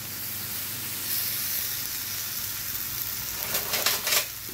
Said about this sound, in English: the first thing we're gonna do is go ahead and cook this bacon